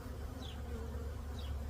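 Honey bees buzzing around an open Layens hive during a package install, a steady close drone with a couple of individual bees flying past.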